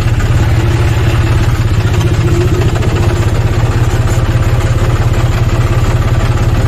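A tractor engine runs steadily while being driven on a cold evening trip to a flour mill, giving a loud, continuous low diesel throb with rhythmic chugging pulses and mechanical clatter, close up and alone without any voices.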